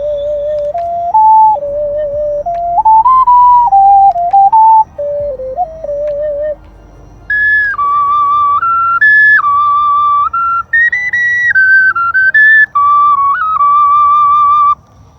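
A Zhou Zilei plastic double ocarina plays a clear, breathy, whistle-like melody up close, with short phrases stepping between notes and a higher-pitched passage in the second half. No voices are heard.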